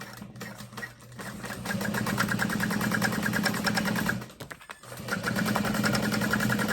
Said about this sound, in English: So we're gonna sew just along the lining fabric.